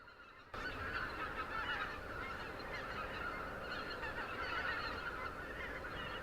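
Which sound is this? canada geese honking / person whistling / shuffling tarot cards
canada geese honking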